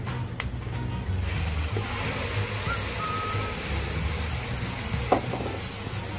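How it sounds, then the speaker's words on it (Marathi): Green masala paste for a Hyderabadi green chicken curry fries in a pan with a steady, fairly loud sizzle and crackle, broken by a few brief clinks. No voices are heard. "आपलं जे वाटण, हिरवं वाटण मस्तपैकी जे तयार झालेलं ते मी आता ह्याच्यात टाकते आणि हे व्यवस्थित फ्राय करून घेणार आहे"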